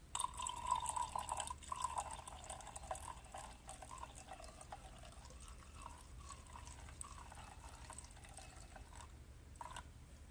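Two ounces of solution pour into a jar, a faint, soft trickle and a few drips in a quiet room, with no talk.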